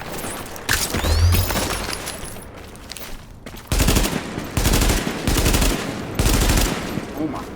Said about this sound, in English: I just tanked that sniper shot